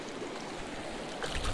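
Steady rushing flow of a remote mountain trout stream, a continuous close wash of water with no talk.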